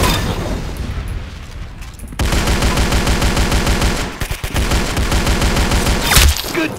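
Loud, dense automatic gunfire in the video game Arsenal, with a sparser opening followed by a long rapid rattling stream that is briefly interrupted midway, close and with no speech.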